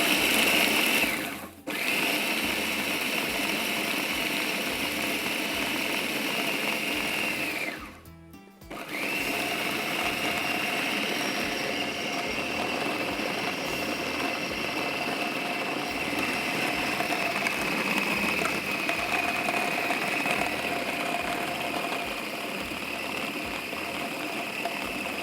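An electric mixer grinder grinding ingredients in a loud steady whine, close by, briefly cut off twice before starting again, running alone without talk.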